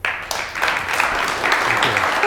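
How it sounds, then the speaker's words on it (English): Applause from the audience at a Startup Grind Tampa Bay event welcoming speaker Ian Ippolito, a steady, fairly loud wash of clapping sustained for a couple of seconds. "Please give a warm round of applause to Ian."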